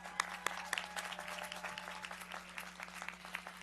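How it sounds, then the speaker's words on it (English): Audience applause at a community college commencement ceremony, a steady wash of many hands clapping in a large venue, with a few sharper claps near the start, moderately loud and without talk. "Let's give them a round of applause."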